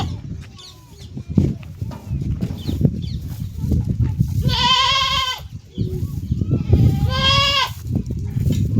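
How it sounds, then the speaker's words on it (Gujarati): A goat that has climbed onto a cart bleats twice, loud and close, each cry wavering and drawn out, over rustling, shuffling and chewing noises in a farmyard. "જો ગાડામાં ચડીને બકરી ખાઈ"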